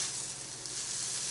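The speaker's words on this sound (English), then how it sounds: "I'm going to turn it up just a little bit because I want to get that nice fried taste on the noodles" Noodles fry in a hot pan for a cheap, quick pseudo-Chinese noodle dish, giving off a steady, dense sizzle that holds at an even level throughout with no talking.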